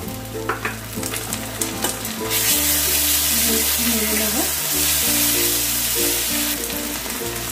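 Fried onion with garlic and ginger paste sizzles in a pan for a Bengali prawn dish, a dense close hiss under repeated scraping stirs, growing louder as the paste hits the oil.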